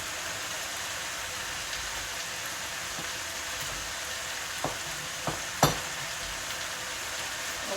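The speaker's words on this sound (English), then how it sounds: "the veggies are going to simmer anyway" Vegetables simmer in a pan with a constant low hiss and crackle, and a few sharp clicks and taps stand out near the end. No voices are heard.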